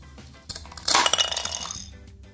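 A knife slices through a green star fruit on a cutting board, giving one clear crisp cut with a brief clink, close and moderately loud, with no talking.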